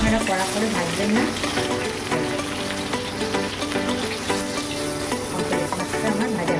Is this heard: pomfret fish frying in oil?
yes